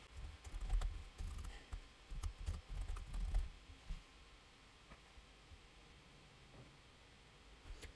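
Fingers tap a computer keyboard while an email address is entered into an online form, brisk close clusters of keystrokes for a few seconds before the room falls nearly quiet.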